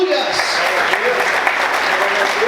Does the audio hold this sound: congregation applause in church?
yes